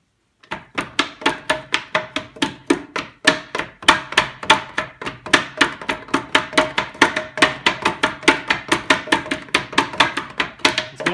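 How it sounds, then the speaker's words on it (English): A hammer taps a part into place during repair of a 6L90 transmission from a 2008 Chevy 2500, giving a steady run of close, sharp metallic knocks, several per second, that carries on for about ten seconds. "I kind of put a little bit of pressure and just tap it gently"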